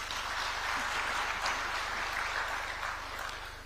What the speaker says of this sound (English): Now, Kenya deserves a round of applause there.